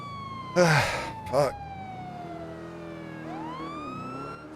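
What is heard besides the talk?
police car siren in GTA V NoPixel video game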